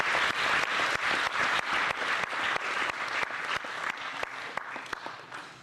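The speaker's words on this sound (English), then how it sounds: "Do you think maybe we should give the parents a round of applause for the great job they've done with these young ladies?" Parents at the Little Miss Hartford 2012 pageant receive a sustained round of applause from the crowd, dense clapping that stays strong, then thins slightly toward the end.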